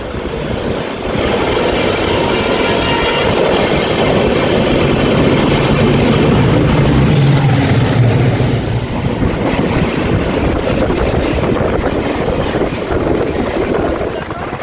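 A diesel-hauled express train between Mumbai CSMT and Kalyan roars past loud and close, a sustained heavy rumble with wheel clatter that rises and then fades slightly toward the end.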